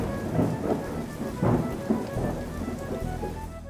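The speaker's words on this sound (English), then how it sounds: "It's raining!" Steady rain pouring down with a rumble of thunder underneath, loud and close, no voices.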